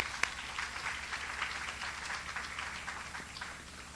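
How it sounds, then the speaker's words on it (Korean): A church congregation applauds to welcome a missionary coming forward: a steady, fairly quiet wash of many hands clapping, diffuse and roomy, holding even for several seconds with no voices over it. "우리 정보의 선교사님 나오실 때 큰 박수로 환영해 주시면 감사하겠습니다"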